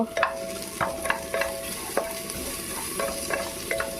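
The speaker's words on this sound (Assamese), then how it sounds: "আদা নহৰু পেষ্ট দি দিলে এইবাৰ আৰু এইবাৰ লৰাই দিব" Ginger-garlic paste fries in a hot pan while a spatula stirs it in quick, repeated scraping strokes over a continuous crackling sizzle, close and fairly loud, with no voices.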